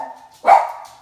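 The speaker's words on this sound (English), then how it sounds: "Dogs are excited." An excited dog lets out a single short, sharp bark, close and loud, preceded by a brief low whine.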